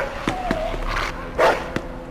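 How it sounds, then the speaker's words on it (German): Dog barking in the video game Mafia 2, a few short separate barks at moderate distance, the loudest near the middle, over a steady background ambience with no talk. "Ich höre einen Hund."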